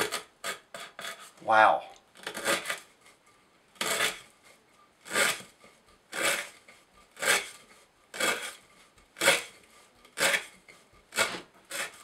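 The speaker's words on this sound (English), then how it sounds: "That toothiness is getting right through that rope." CRKT Shenanigan knife sawing through 3/8 inch sisal rope in repeated rasping strokes, each a short, close, scratchy burst with brief gaps between, and a person briefly exclaims over it.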